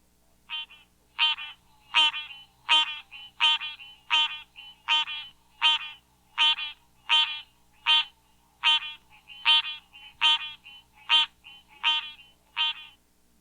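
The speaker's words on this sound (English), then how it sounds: "cinerea, sometimes called the cowbell frog" A green tree frog (Hyla cinerea, the cowbell frog) calls at night, repeating a sharp, nasal, bell-like note about once a second, each one clear and alone against a silent background.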